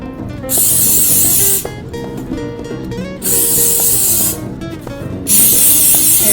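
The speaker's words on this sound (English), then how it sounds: "we are going to spray our pan with the canola oil" Three loud hissing bursts from an aerosol can spraying canola oil onto a muffin baking pan, each lasting about a second, separated by short pauses with faint background music.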